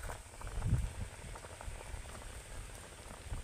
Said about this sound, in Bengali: পিঠেটাকে দুধের সাথে যত ভালো করে ফোটানো হবে পিঠেটা তত ভালো সেদ্ধ হবে